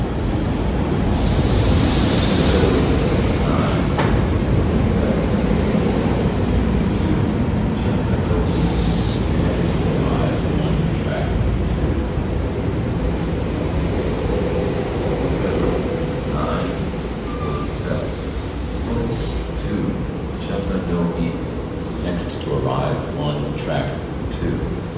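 A SEPTA Silverliner 4 regional rail train, built in the 1970s, pulls into Suburban Station with a loud, continuous broadband rumble and rushing noise that fades slightly over the length of the clip.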